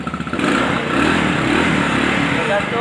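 ATV engine in Kuala Lumpur starting up with a few quick putters after the start button is pressed, then settling into a loud, steady close-up idle and rev.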